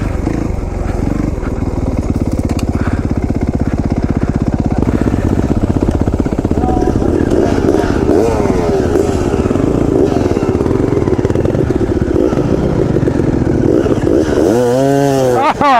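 A KTM dirt bike engine, an oil-burning model year, runs loudly and steadily on an off-road trail, revving up and down with rising and falling pitch sweeps; people talk over it.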